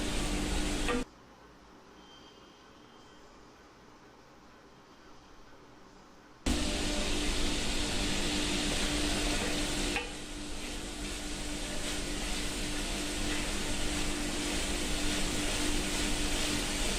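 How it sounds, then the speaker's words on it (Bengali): Pointed gourd with spices sizzling and being stirred in a pan, a steady loud hiss that drops quiet for several seconds, then returns strongly and continues. "তারপরে চুলার আঁচটা একটু কমিয়ে দিয়ে মশলাটা আর একটু ভেজে নিব।"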